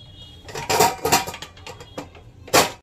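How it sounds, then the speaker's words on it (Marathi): Metal parts clink and clatter in a kitchen as the rubber ring and whistle are taken off a pressure cooker, in a few quick, close bursts of rattling. "आता ह्या कुकरची मी रिंग आणि शिट्टी काढून टाकली"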